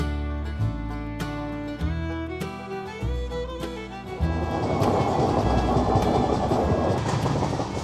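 A train rolls on rails through Sambalpur city in India, opening with a few tonal horn-like notes over the rumble before settling into a steady, moderately loud rolling noise with no talk.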